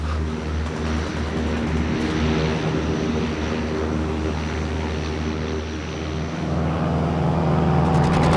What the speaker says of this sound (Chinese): 飞机，空袭。